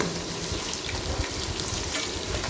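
Long-sliced onions and green chillies fry in groundnut oil with spices for a one-pot chicken biryani, giving a dense, even crackle and hiss that stays loud and close throughout, with no talking.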